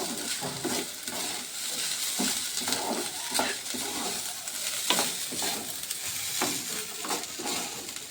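Rice being stirred and fried in a pan for paneer pulao, with a steady soft sizzle and repeated scraping strokes of a spoon against the pan at a moderate pace, close and unaccompanied by talk.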